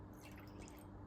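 Plain water pouring into a bowl of dry ingredients, a soft continuous trickle and drip heard close up and steady for a moment.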